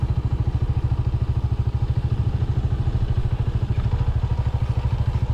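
A motorcycle engine putters steadily at close range, its rapid low thumping beat running evenly with a faint rattle over a rough dirt road.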